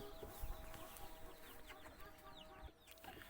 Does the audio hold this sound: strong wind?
no